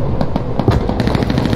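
Explosions from a bombing run in the World War II shooter Hell Let Loose, a rapid string of loud, close cracks and booms going off in quick succession, with no voices.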